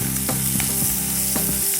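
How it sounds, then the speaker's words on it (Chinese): Chicken thighs pan-frying in a pot, a steady close sizzle and crackle with occasional utensil taps, no voices. "稍微煎一下，不要到全熟哈"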